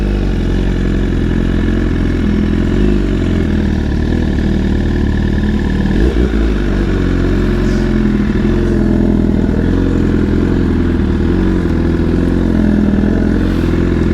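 A BMW S1000RR motorcycle engine running steadily at low revs, a loud, close, continuous rumble with a brief swell midway, no talking.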